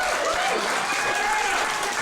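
A wrestling crowd at a live match breaks into dense, steady applause and cheering, a loud unbroken wash of clapping that fills the whole moment.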